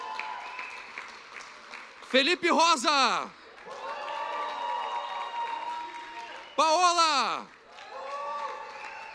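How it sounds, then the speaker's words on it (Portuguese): Church congregation clapping during a service as members are called to the front, a moderate continuous patter of applause broken twice by a loud amplified voice calling out names over it. "Palmas para Priscila!"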